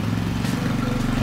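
A go kart engine idles close by with a steady, throbbing low rumble, continuous and fairly loud for the whole moment.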